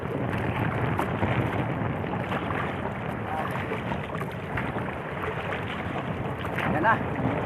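Steady wind rushing and buffeting across a small fishing boat on open water near a fish corral, a continuous broadband roar with faint water sounds beneath.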